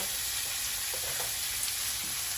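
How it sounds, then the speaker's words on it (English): Butter pieces sizzling and frying in a hot pan alongside a steak being basted, a steady, dense crackle with no talking. "So I got butter here. And I cut about 3-4 pieces, drop it in"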